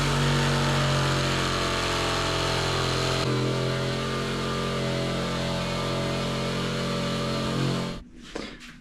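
A power saw cuts steadily through a Formica kitchen countertop to make an opening for an IKEA sink, a loud continuous motor whine for about eight seconds that stops abruptly, leaving brief faint handling noises.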